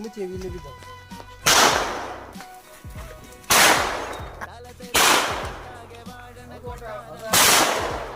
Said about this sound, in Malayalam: അവിടെ കുറച്ച് ഓലപ്പടക്കം ബാക്കി ഇരിപ്പിട്ട് എന്നാ അതൊക്കെ എടുത്തങ്ങ് പൊട്ടിച്ച് തീർക്കാന്ന് വിചാരിച്ച്